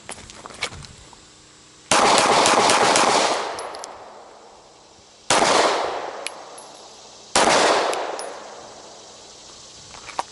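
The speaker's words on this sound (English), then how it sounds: "I broke the shot high, and then that's shot number 2." Gunshots ring out on an outdoor range during a near-far shooting drill. Three separate loud, sharp bursts each die away in a long echoing tail, with a few fainter cracks and clicks before the first.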